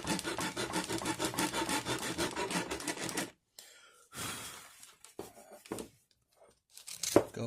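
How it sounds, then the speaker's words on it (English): A half round wood rasp scrapes in fast, rhythmic strokes while shaping a thumb hole in a wooden war club, then a pause and a few scattered handling rubs and knocks. "Now I'm going to take the half round on this wood rasp."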